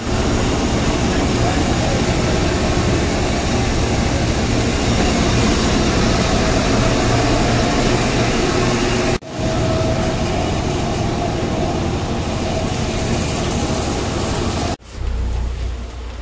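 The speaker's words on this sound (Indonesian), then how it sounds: "Yuk, kita naik komuter lain tujuan Jakarta Kota dan bakal turun di stasiun Manggarai." Inside a KRL commuter car bound for Jakarta Kota, a continuous rumble of running gear fills the carriage, broken twice by abrupt drops in the noise. Voices may murmur faintly underneath.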